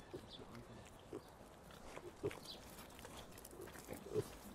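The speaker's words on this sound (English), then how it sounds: "I'm sorry, little piggies." Pigs oinking in a farming simulator video game, faint grunts scattered under a steady low background hum, a few slightly louder snorts near the end.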